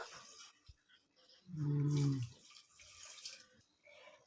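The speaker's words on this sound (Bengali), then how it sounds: "জল দিয়ে দিচ্ছি পরিমাণ মতো" Water poured into a pressure cooker for boiling jackfruit, a short gurgling pour of about a second in the middle of the clip, fairly close, with light kitchen clatter around it and no talk.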